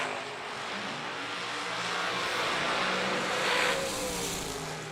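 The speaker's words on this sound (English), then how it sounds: "Old school hardtail dragster with upswept zoomies." An old school hardtail dragster with upswept exhaust headers at a drag racing event roars steadily from mid-distance, a sustained loud engine note that swells slightly near the end without speech.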